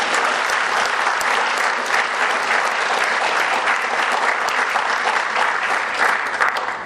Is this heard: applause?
yes